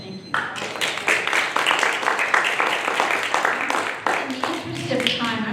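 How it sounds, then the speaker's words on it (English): An audience at a city council and mayoral candidates forum applauds, a dense sustained patter of many hands clapping close by for several seconds. "I'm going to ask that the audience hold their applause until the end"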